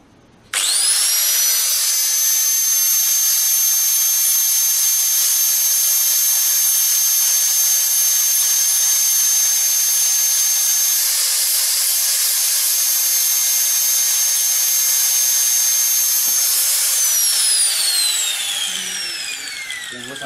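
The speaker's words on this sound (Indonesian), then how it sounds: "habis motong besi dalam kondisi aman dengan cara digerinda seperti itu" A handheld angle grinder cuts through iron, a loud steady high-pitched whine with a harsh cutting hiss that holds for about sixteen seconds, then the motor winds down as it is released and spins to a stop.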